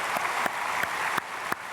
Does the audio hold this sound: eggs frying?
no